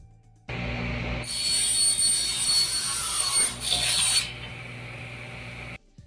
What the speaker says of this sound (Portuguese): Para fazer, Edmar cortou um pedaço de tubo de alumínio. Depois cortou em dois.